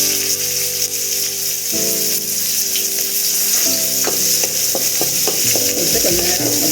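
Onions sauté in a pan for Tamil-style tomato rice with a steady, loud sizzle throughout, and in the second half a spoon stirs with scraping clicks against the pan.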